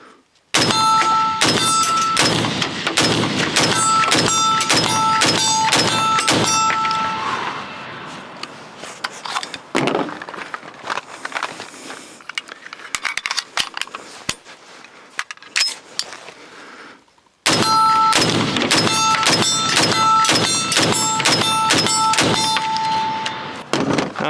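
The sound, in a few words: Bear Creek Arsenal AR-15 rifle firing steel and brass case ammo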